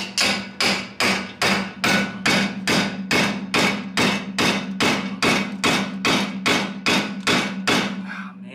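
Old tie rods on a Yugo being hammered during drivetrain removal, a steady run of about seventeen loud, evenly spaced metallic blows, close and alone.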